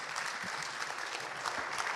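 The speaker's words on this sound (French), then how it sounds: "Je pense qu'on peut vous applaudir." Applause from an audience at a French architecture conference on rehabilitating housing heritage, a steady patter of clapping at moderate distance, fairly faint and continuous, with no talk over it.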